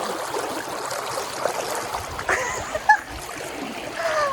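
People bathe in a river, sending soft splashes and trickling water around them amid flowing stream noise, with a few sharper splashes and brief exclamations partway through.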